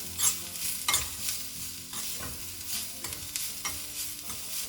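Grated carrots with black pepper and salt are stirred in a hot pan, a soft sizzle broken by rhythmic scraping strokes about once a second, close and clear with no voices.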